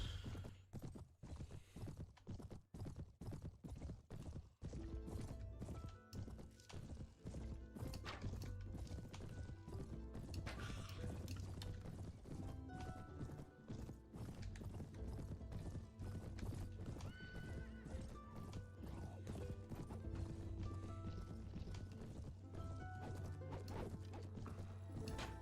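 Many horses gallop in a dense, continuous drumming of hooves, with whinnies and clashing impacts layered over the thundering rhythm, loud and close; horse archers in the video game Mount & Blade: Warband.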